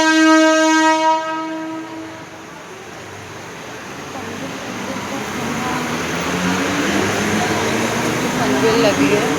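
A local train bound for Thane sounds its horn at a station platform, then a steady rolling rumble of the train carriages fills the rest of the scene. Voices are faintly present underneath.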